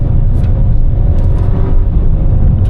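A Hyundai Venue's engine drones loud and steady from inside the cabin while driven with paddle shifters, a deep, continuous hum with a slight rise in pitch and no talking.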